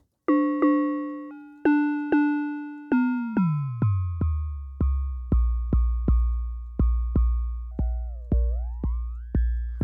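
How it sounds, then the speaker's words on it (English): A sequence of bright metallic synth bell tones, each struck sharply and decaying, with inharmonic ringing overtones and a deepening low drone; loud, no voices. "you would get into metallic sounds territory, bells and ring modulator stuff"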